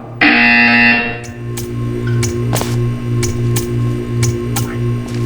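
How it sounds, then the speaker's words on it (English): A loud, harsh electronic buzzer from the video game Portal 2 blares for about a second, then a low steady hum continues with faint ticking clicks. "When you hear the buzzer, stare at the art."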